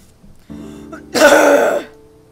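A man's heavy, wet coughing fit in the video game Soul Gambler, a character who smokes and coughs up blood; one close, loud harsh burst after a short throat sound.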